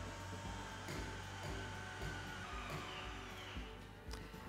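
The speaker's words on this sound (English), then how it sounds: "On the handheld remote, I'm now going to engage the wheel and you'll hear a sound. The motors are moving back in place." A handheld remote engages the wheel mover motors on a 2025 Bowlus Rivet travel trailer, producing a steady, close mechanical whir with low rumbling pulses throughout, no talking.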